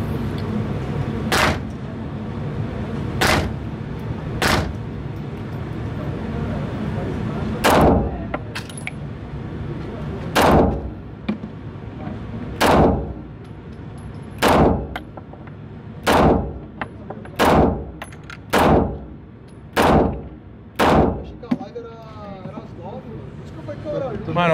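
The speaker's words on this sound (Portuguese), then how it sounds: "Põe o dedo no gatilho e pau." Gunshots from a handgun at a shooting range, about fifteen sharp, loud cracks fired one by one, first a few seconds apart and then in a quicker steady series, with people talking between shots.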